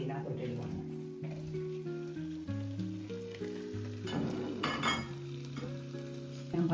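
Chopped tomatoes drop into a hot paella pan with chorizo, prawns, chicken and vegetables, giving a soft, steady sizzle and frying crackle under louder tonal background music.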